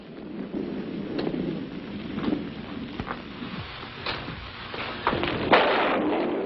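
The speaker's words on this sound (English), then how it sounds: "Don't worry. Just a little thunder." Thunder rumbles low and heavy during a rainstorm, rolling on under steady rain that grows louder near the end, with no voices.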